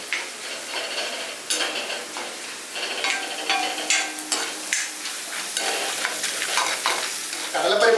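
Chana dal frying in oil while being stirred, a bright, crackling sizzle with a near, irregular scraping and clinking of the spoon against the pan throughout.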